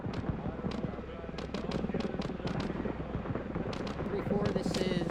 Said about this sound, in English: Got rounds landing near us.